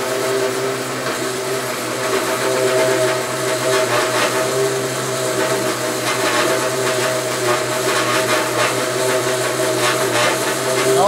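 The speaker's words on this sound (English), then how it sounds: "Also should have mentioned the cutting speed on this. This is mild steel." A bandsaw cutting mild steel in a workshop, a steady loud mechanical whir and grinding buzz with sustained tonal hum, running evenly and unbroken for about eleven seconds.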